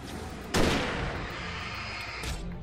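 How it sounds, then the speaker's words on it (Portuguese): A single loud gunshot in the video game Alan Wake cracks out, followed by a long rumbling echo that fades, then a softer second blast near the end. "deixa eu dar um tiro antes"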